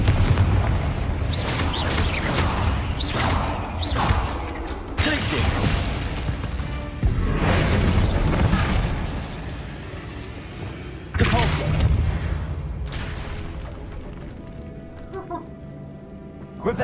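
Spell blasts from Hogwarts Legacy, including fire and explosive spells, go off in a rapid series of loud booming bursts, then give way to a few heavier separate explosions that trail off into a fading rumble.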